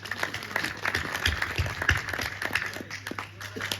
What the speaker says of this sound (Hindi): एक बार मुझे आप तालियां बजा के आदेशित करें